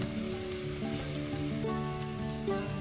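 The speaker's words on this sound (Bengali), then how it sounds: "ভালো করে এই দুটিকে মিশিয়ে ব্রাউন করে ভেজে নিচ্ছি।" Chopped onion and garlic fry in a pan until golden brown, giving a steady close sizzle with faint stirring and no talking.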